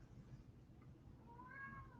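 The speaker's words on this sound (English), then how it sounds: "Got a yowling kitty." A house cat named Kiki gives a drawn-out rising yowl near the end, stirred by commotion outside, heard over a low steady indoor rumble.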